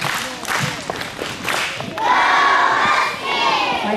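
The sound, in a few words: school assembly doing a Husky cheer for a class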